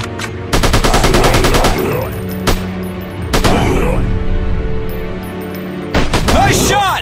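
Gunfire in a first-person shooter mission, with loud bursts of rapid automatic shots and single heavy reports separated by short pauses, under game voice lines.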